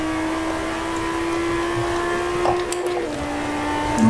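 Car engine in Test Drive Unlimited 2, heard from the interior view, holding a steady drone with a slight rise in pitch near the end, constant and fairly loud with no talk.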